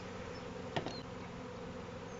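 Black honey bees inside a hive between frames give off a steady, low, continuous buzz, close and even, with one brief louder flick partway through.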